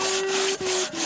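A lumberjack crosscut saw works through wood in a crosscut sawing event, rasping back-and-forth strokes with a brief pause between each, close and loud.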